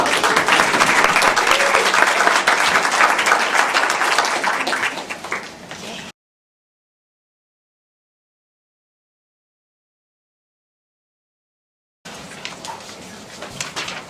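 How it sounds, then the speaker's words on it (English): Conference audience applause at a property and housing conference, dense clapping that fades and cuts to silence partway, then resumes more quietly near the end. "a round of applause for me"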